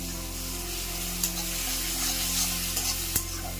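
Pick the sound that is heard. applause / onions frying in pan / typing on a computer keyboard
onions frying in pan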